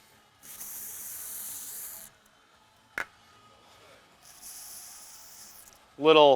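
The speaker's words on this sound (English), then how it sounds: "we're going to apply a healthy amount of lubricant" Gel lubricant sprays onto a barbell in two long hissing bursts with a short sharp tap between them, followed by a brief loud close sound at the end.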